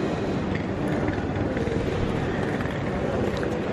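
A South Western Railway train to Southampton Central rolls along, heard from inside as a constant loud low rumble and rushing noise with no clear voices.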